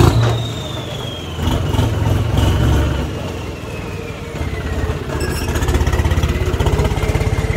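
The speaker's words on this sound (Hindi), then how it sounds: "आप देख लो भाई चल रहा है ट्रैक्टर आराम का" A tractor being readied for a tug-of-war contest runs at close range with a steady, throbbing diesel chug that rises and falls slightly in pace, staying loud and continuous throughout.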